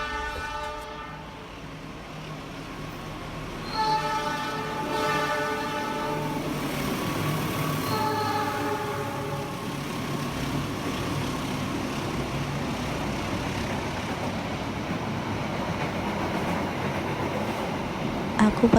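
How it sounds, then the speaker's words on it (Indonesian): A passenger train rolls past on an Indonesian railway line, its horn sounding in two long harmonic blasts over a steady close rumble of wheels and carriages that continues throughout. "Aku paling suka banget ngeliatin kereta api yang lewat kayak gini."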